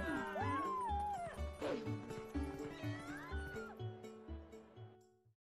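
A cat enemy in a video game lets out wavering meows over a pulsing game soundtrack, several drawn-out cries across the clip at moderate level.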